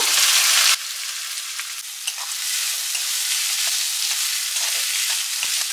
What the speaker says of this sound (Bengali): এবার প্রথমে আমি পেঁয়াজটাকে ফ্রাই করব।